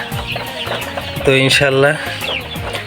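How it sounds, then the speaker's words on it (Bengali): Young layer chickens on a poultry farm clucking and cheeping nearby, a busy overlapping chorus with one louder squawking call in the middle, while someone speaks briefly over them. "এই দেখুন ভ্যাকসিন শেষে মুরগিগুলো"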